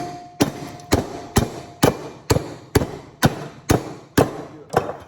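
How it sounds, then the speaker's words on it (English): Ten sharp metallic hammer blows knocking steel off copper from golf cart chargers, struck at a steady, even pace, each ringing briefly before the next, close and loud with no talking. "so let's get a hammer."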